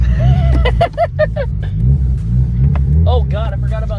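A budget turbocharged Mazda Miata with no power steering drives around a building, its engine rumbling steadily under someone talking.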